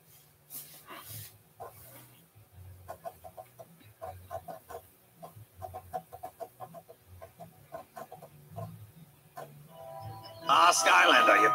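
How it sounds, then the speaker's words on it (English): Angry chickens in the video game Skylanders Imaginators cluck in rapid, jittery bursts throughout, layered over game background music, building toward a louder, noisier burst at the end. "now the place is overrun with his crazy angry chickens"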